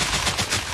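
An atomic-bomb TNT block explodes in Minecraft, a loud, dense burst of crackling blast noise with rolling pulses and no pause.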